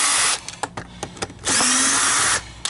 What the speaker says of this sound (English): Alright, so now we're going to just start stripping screws out.